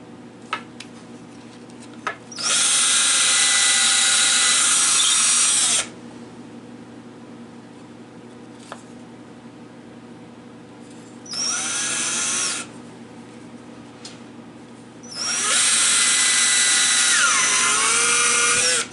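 Power drill boring prep holes while building a caddy for shop clamps, in three separate high-pitched whirring bursts, two long and one short, with quiet shop pauses between.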